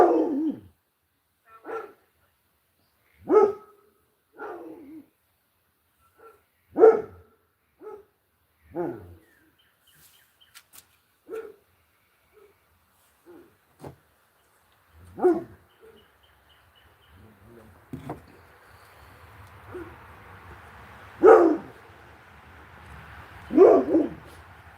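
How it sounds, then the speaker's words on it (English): A dog barks in short, separated bursts at a farm, each bark followed by silence, with some softer whimpering and a faint hiss of background noise building toward the end. "I'll turn that one down so he doesn't hear himself bark."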